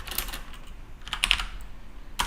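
Code is typed on a computer keyboard in short bursts of crisp, close keystrokes separated by brief pauses.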